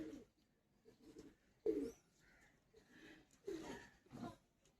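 Andra pigeon, a fancy breed kept for sale, cooing in soft low bursts, with a few louder coos in between and quieter murmuring between them.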